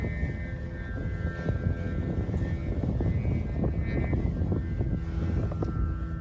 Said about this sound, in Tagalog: Duman yung kalaban niyang eroplano, yung Tora Tora.